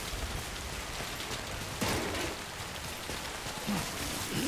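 Timefall rain falls in the Death Stranding video game, a quiet, steady patter near a shelter with a couple of brief louder bursts and no voices.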